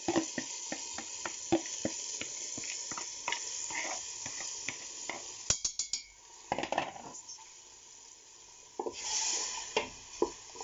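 Harira mixture tipped into a pot, hissing faintly while a utensil scrapes and stirs in a steady rhythm of clinks, with a brief louder sizzle burst near the end; no voices.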